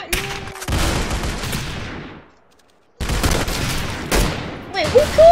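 An automatic sniper rifle fires in the Roblox game Arsenal, with loud close bursts of shots split by a brief silence, then more firing with a short whine at the end.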